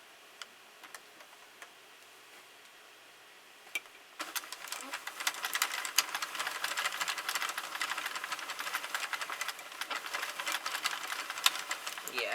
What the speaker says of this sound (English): we're going to crank a whole row